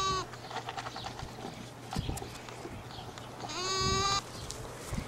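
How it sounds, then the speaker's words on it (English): A baby goat nursing from its mother lets out a couple of clear bleats, one early and a longer one near the end, over quiet farmyard background. "A baby goat nursing from its mother is generally an instinctive behavior."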